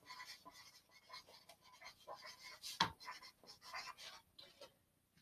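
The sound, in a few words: writing on a board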